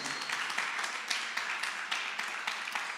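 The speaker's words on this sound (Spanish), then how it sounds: "Dele un aplauso al Señor, por favor" A church congregation claps together in sustained applause, a dense, even patter of many hands heard from a moderate distance, with no talking over it.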